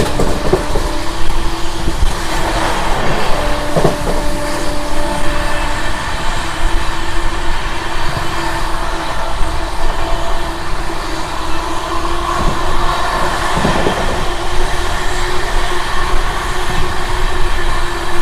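Sapthagiri Express with new LHB coaches running on a bypass line near Tirupati, a steady loud rumble of wheels on rails throughout, with brief squeals and horn-like tones rising above the continuous roar.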